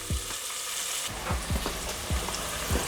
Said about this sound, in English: We want to saute these.